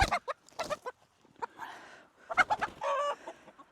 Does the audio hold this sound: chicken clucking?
yes